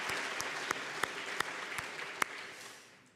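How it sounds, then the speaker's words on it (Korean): Church congregation clapping in encouragement for a married couples' choir, a fairly distant, soft patter of many hands with a few sharper individual claps standing out, fading away toward the end. "격려의 박수 한번 보내주시죠"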